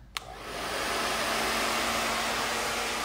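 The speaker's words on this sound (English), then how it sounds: "This is really cool for the Parlux blow dryers." A Parlux blow dryer fitted with a silencer runs steadily after a brief click, a loud, even whooshing airflow with a faint motor hum, and no talk over it.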